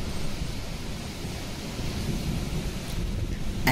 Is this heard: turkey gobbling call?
no